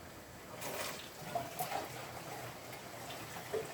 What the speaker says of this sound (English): the water's flowing in, flowing up